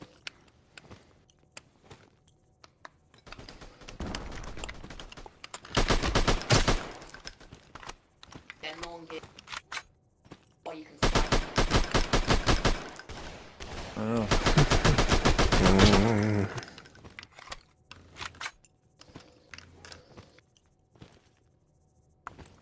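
Automatic gunfire in the video game Alvo, several loud bursts of rapid shots separated by quieter stretches of clicks and small mechanical sounds, with someone speaking briefly.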